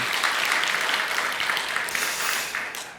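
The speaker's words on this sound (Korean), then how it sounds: "우리 다시 한번 큰 박수 한번 격려합시다." A church congregation claps steadily at a revival service, a dense, even patter of applause that stays loud throughout before easing slightly at the end.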